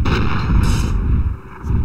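Cannon fire in the video game The Cursed, from a warship with five cannons, heard as dense, loud, overlapping booms and rumbling blasts through a short burst with no pause.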